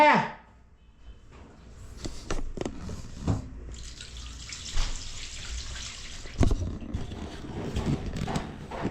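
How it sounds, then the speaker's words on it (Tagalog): Water rushes and splashes steadily from a newly installed pipe during a plumbing leak test, with people talking over it nearby and occasional knocks. "Yan, ganda ng flow ng tubig."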